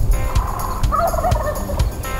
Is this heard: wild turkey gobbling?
yes